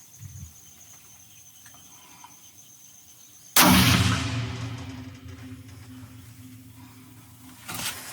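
A single rifle shot fired at an animal during a woodland hunt booms out loud and near, its roar trailing off over several seconds after a quiet outdoor lull, with a fainter crack or thump near the end.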